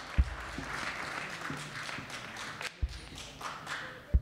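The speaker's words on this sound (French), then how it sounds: "on applaudit encore pour la gloire du Seigneur" Church congregation applauding during a worship service, a soft, sustained patter of many hands with a few louder thumps and taps, moderately distant and fairly quiet throughout.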